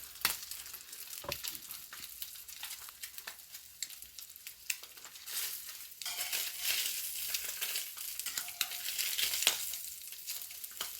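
Spam sizzles and crackles in a hot frying pan, a steady close frying hiss with scattered pops that swells louder in the second half, with no talking.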